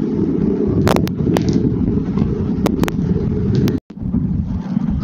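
Steady outdoor wind buffets the microphone beside a newly built bypass road near Agartala on the Assam road, a continuous loud rushing with a few brief clicks and one momentary dropout.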